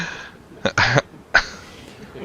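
A man gives a few short, harsh coughs close by, two quick bursts followed by a third after a brief pause, against a quiet background.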